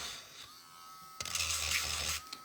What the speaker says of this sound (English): when I use this Dremel like this